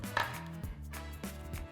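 A kitchen knife cuts a block of butter in half, giving two soft, dull knocks against the board about half a second apart, fairly quiet and close.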